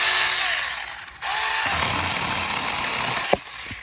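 Mini chainsaw cutting through wood, its high buzzing whine dropping briefly as the blade bites in, then running on loud and steady before a short clatter near the end.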